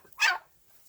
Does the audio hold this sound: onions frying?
no